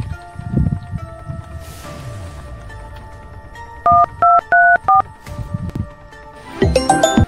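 A telephone number is dialed during a rural comedy sketch: a quick run of four or five keypad tones, loud and close, between rustling handling noise and a burst of other ringing tones at the end.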